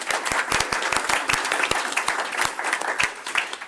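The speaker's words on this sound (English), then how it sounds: "Let's give him a round of applause." An audience claps for a school principal, with sharp individual claps standing out against a steady patter of applause that holds for the whole stretch at moderate loudness.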